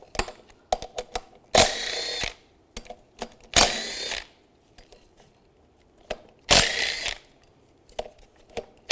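A power tool with a 13 millimeter socket backs out bolts on a 2002-2009 Chevy Trailblazer fan clutch, whirring in three short close bursts, with clicks and rattles of handling between them.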